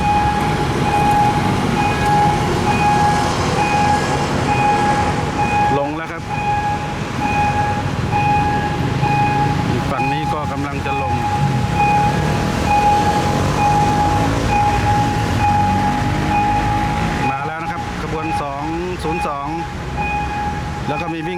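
A State Railway of Thailand train rolls through a level crossing at Si Ayutthaya, a loud continuous rumble of wheels and cars with a steady crossing-bell tone ringing over it and occasional voices.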